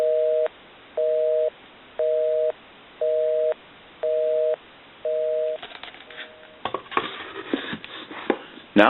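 A novelty duck-shaped telephone gives a clear busy signal, six evenly paced beeping pulses about once a second, followed by clattering handling noise as the handset is moved.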